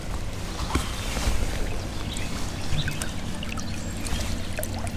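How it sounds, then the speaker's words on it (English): A fishing net is dipped into the water of Hay Creek to free a stocked trout, bringing a steady trickling and splashing rush of creek water up close, with a few sharper splashes and no voices. "I'm just gonna try and dip my net in the water to get him out of there."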